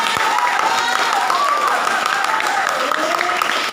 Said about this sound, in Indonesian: Tepuk tangan dong semua.